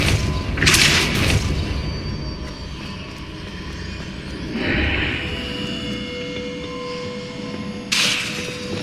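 Depulso spell in Hogwarts Legacy shoving a stone pillar, a deep booming thud followed by a low rumbling slide, with further whooshing spell bursts, no talk.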